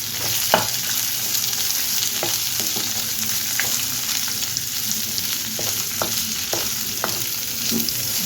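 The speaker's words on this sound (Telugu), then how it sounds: "పచ్చిమిర్చి, అల్లం ముక్కలు, ఒక ఎండుమిర్చి, అలాగే ఉల్లిపాయ ముక్కలు కూడా వేసి వేయించుకుందాము." Green chillies, ginger pieces, a dried red chilli and onion pieces fry in hot oil in a pan, a constant close sizzle punctuated by scattered sharp spatter pops and stirring clicks.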